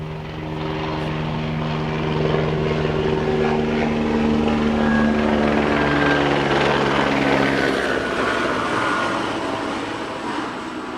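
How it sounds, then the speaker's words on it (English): A helicopter flying overhead outdoors, a loud steady rotor and engine drone with pulsing low tones that swell in the middle and slowly fade, with no talking. "Hold for helicopter noise."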